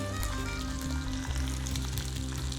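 Dried red chillies with green chillies sizzle in hot oil for a traditional mango pulihora, a steady close crackle with a low rumbling hum beneath and no voices.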